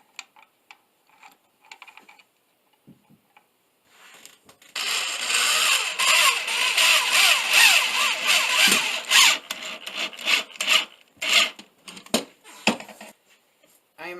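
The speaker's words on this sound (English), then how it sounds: "I drive the pocket hole screws" Power driver sinking 1 1/4 inch pocket hole screws into wooden chest boards with a mini Kreg jig, a sustained buzzing whir of several seconds followed by shorter stop-start bursts, preceded by faint scattered clicks.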